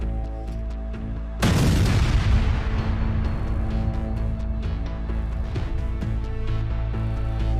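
Explosions at a Pakistani army border post in the Khyber Pakhtunkhwa border area during a Taliban attack: one sudden heavy boom followed by a long rumbling roar and crackling debris, loud and sustained.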